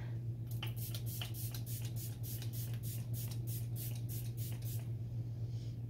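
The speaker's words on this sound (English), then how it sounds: "there is just spray going everywhere" Tarte Double Duty Beauty Setting Spray mists in a run of about a dozen quick, close pumps, each a short hissy burst, over a steady low hum.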